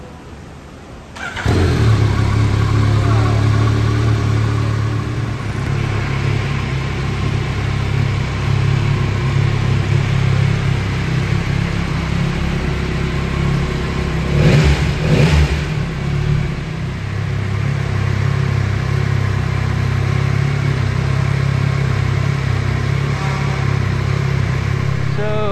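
A 2022 Yamaha XSR900 motorcycle engine starts up and idles loudly nearby with a steady low rumble, rising briefly in a rev midway before settling back to idle.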